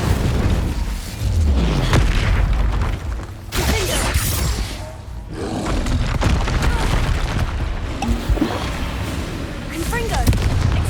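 Incendio fire spell cast in Hogwarts Legacy combat, a loud whooshing burst with booming impacts among other spell blasts, dense and close, with a voice calling out between them.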